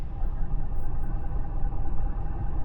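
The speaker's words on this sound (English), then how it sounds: "Actually, let's go ahead and remote start it." A Ford F350 pickup's engine, started by remote start, rumbles in a steady, fairly loud low drone throughout, with no voices over it.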